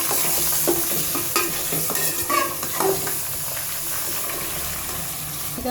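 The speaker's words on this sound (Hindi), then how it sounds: "चिकन को अच्छी तरह फ्राई कर दें।" Chicken frying in a pan for biryani, a steady broadband sizzle running throughout with occasional stirring scrapes and light clatter, close and continuous without talk.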